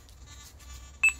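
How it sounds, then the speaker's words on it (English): Nokta Makro Simplex+ metal detector giving a ground-balancing beep, a single sharp electronic tone near the end of a quiet low hum, close and clear with no voices. "until the machine beeps"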